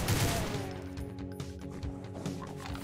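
Weapon fire in the video game DOOM: a dense, loud, continuous blast with crashing debris and rumbling effects sustained over three seconds.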